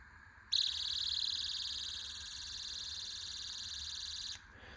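A Boruit V10 EDC flashlight sounds its disorienting alarm: a loud, steady electronic buzz that starts abruptly, holds unbroken for about four seconds, then cuts off sharply, heard alone.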